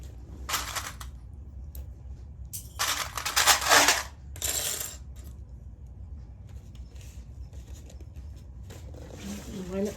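Small metal sewing clips drop onto the floor during bag making, giving several separate bursts of clattering, jingling impacts, with quiet gaps between them and a voice speaking softly nearby.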